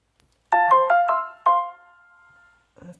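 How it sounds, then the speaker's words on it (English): A phone notification chime rings out close and clear, a quick run of bright melodic tones that ends on a held note and fades away, with no talking over it. "That's my phone."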